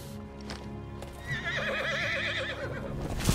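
A horse in the video game Final Fantasy XVI lets out a loud, wavering whinny lasting about a second and a half, preceded by faint clip-clop hooves and ambient game sound.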